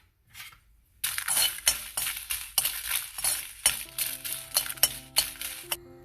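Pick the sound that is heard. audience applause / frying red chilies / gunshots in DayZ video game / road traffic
frying red chilies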